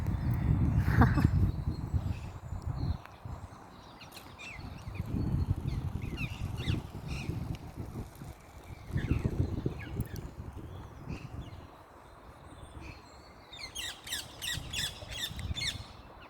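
Harsh squawking calls from green Alexandrine parakeets ring out in bursts over a busy outdoor background in Germany, with a cluster of sharp, repeated shrieks near the end.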